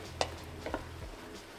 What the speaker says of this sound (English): we're going to emulsify a bit more butter in there